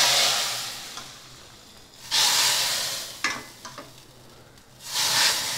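A hot tempering of vadagam and curry leaves is poured into a pot of broad bean sambar, bursting into loud sizzling hisses in several surges alongside scraping and stirring.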